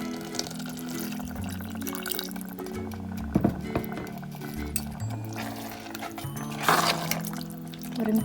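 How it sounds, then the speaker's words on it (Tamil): Water splashes and pours into a pot of chicken curry amid clinks and stirring noises, with a louder pour burst near the end. "இப்போ நம்ம குழம்புக்கு தேவையான தண்ணி வந்து ஆட் பண்ணிக்கலாம்."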